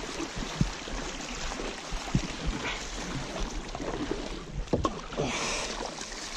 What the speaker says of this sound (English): Now we just gotta paddle back.